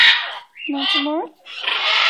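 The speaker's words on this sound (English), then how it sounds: "Such a beautiful bird." A pet bird squawks close by, a harsh raspy call between two bursts of hissy, noisy chatter, loud and near with short pauses between the sounds.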